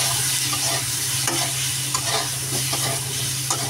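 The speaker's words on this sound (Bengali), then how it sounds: "ভালো করে নাড়িয়ে চাড়িয়ে নেবো" Turmeric and cumin powder are stirred in a hot frying pan, with a steady oily sizzle under scraping strokes of the spoon, close and continuous, no voices.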